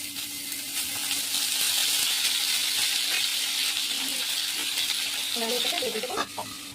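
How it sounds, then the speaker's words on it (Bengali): Pointed gourd (potol) frying in oil in a pan, a loud continuous sizzle with occasional stirring clinks and a faint voice near the end. "পটলটা খুব ভালো করে ভাজতে হবে।"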